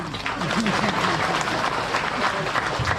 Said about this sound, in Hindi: तालियां थोड़ी कम